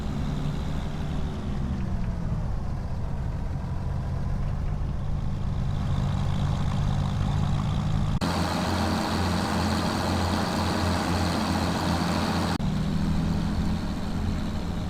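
A tractor engine drives steadily while towing a trailer, a constant low rumbling drone close by with a brief rougher, louder stretch partway through.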